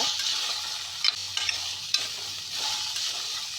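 Chickpea gravy masala frying in a pan, a soft continuous sizzle with a few light clinks and stir scrapes, fairly quiet with no talk.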